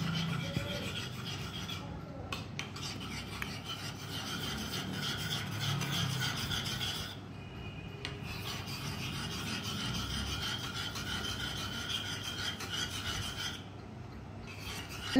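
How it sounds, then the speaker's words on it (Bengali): Eggs seasoned with black pepper are beaten hard in a bowl for chicken cutlets, giving a steady, rapid scraping and rubbing that runs close and unbroken for the whole stretch, with no talk. "এবার ডিমগুলো ভালোভাবে ফেটিয়ে নেব।"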